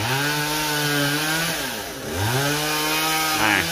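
A chainsaw cuts through the top of a coconut tree, the engine holding a loud steady whine that dips briefly mid-cut and then climbs back to full revs, close by with no voices.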